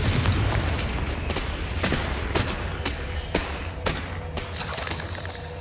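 Confringo fire blast spell from the video game Hogwarts Legacy, heard as a series of sharp, punchy blasts at irregular intervals over a steady rumbling game backdrop.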